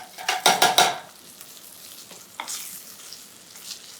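A skate wing fillet fries in a pan for meunière, opening with a burst of loud crackling sizzle and utensil scrapes, then settling into a quieter, steady sizzle with occasional clicks.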